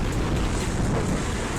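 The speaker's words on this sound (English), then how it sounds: "The ocean waves rise with a truly chilling intensity." Stormy ocean waves rise and churn with a dense, roaring wash mixed with heavy wind buffeting, loud and continuous over a short stretch.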